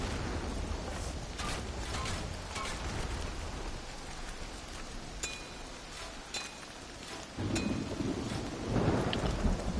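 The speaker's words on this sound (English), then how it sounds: "Nice stormy night out here." A thunderstorm in Tails of Iron 2: steady heavy rain hisses throughout while rolling thunder rumbles underneath, swelling to a louder, deeper crash near the end.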